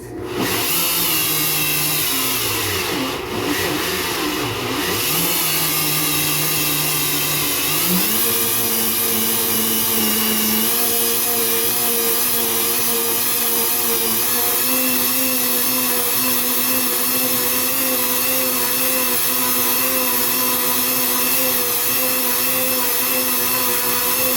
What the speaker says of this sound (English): So I have it on my BlendTech, and we're gonna process.